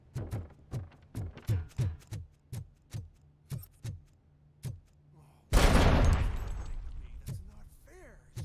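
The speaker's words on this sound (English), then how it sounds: "They're shooting at me" Gunfire in the RoboCop video game: a steady run of sharp single shots at a regular rhythm, then a loud burst of heavy fire or explosion that rumbles and fades, with a voice heard in the mix.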